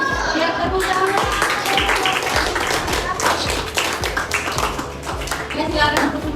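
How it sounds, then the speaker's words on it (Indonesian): A classroom of students claps, a scattered run of close, uneven hand claps and taps mixed with children's voices talking and chattering throughout. "Ya, tepuk tangan."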